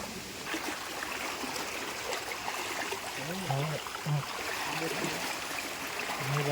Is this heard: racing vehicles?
no